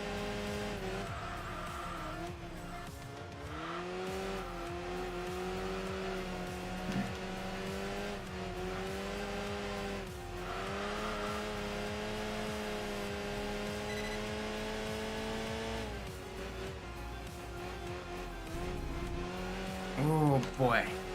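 Race car tires squeal in the Enthusia Professional Racing video game, a sustained, wavering screech over a constant loud engine drone through a corner, running the whole stretch with a brief burst of extra noise near the end.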